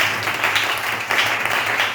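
A crowd claps and applauds in a steady, dense wash of hand claps, moderately loud and sustained without pause, with no voices standing out.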